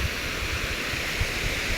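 Steady broadband rush of a waterfall in a creek, continuous and fairly close, with no voices.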